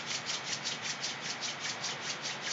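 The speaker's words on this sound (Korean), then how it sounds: "손 비비기 운동을 자주 해주시면 좋아요." Palms rubbed briskly together during a hand-rubbing exercise give a close, steady swishing with an even back-and-forth pulse of about four strokes per second.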